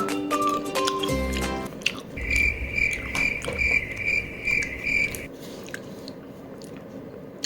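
Someone bites into and chews green almonds, with close crunchy chewing bursts, while a steady insect-like chirping trill runs in the background.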